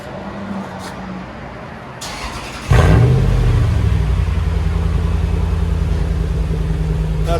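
A 2003 Toyota 4Runner V8 with a muffler delete starts up with a sudden loud burst, briefly revving and then settling into a deep, steady exhaust rumble close by.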